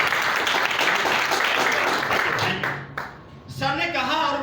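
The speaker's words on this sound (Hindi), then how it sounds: "जोरदार ताली बजाइए।" Audience applause breaks out at a business plan presentation, dense sustained clapping that dips briefly before a voice starts speaking over it.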